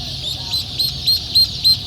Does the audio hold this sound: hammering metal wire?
no